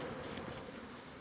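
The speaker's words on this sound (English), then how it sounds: "bees are streaming out. There are a lot of bees in there" A dense, steady buzz of many bees being dumped into a hive box, close and continuous throughout.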